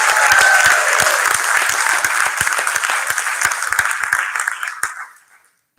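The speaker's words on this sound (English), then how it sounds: "Give him a nice round of applause." An audience at an arangetram dance recital breaks into loud, close applause, dense clapping at first that thins into scattered claps before dying away to silence.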